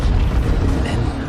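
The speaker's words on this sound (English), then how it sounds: "First, the firestorm from the cannon." Cannon artillery fire from the World War I shooter Battlefield 1 rumbles as a heavy, close boom that rolls on as a sustained low roar before easing off.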